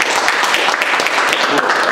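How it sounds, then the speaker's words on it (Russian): Close, loud applause for a poet at a reading, dense clapping running continuously through the whole moment with some voices mixed in. "еще раз аплодисменты автору."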